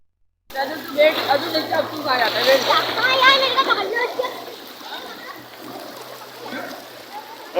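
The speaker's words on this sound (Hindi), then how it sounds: "और डैम का पानी कंटिन्यू आ रहा है, देख सकते हैं।" Floodwater released from a dam rushes and splashes through a flooded street in North Karachi after heavy rain, a loud churning wash that peaks early and then settles. Voices talk faintly in the background.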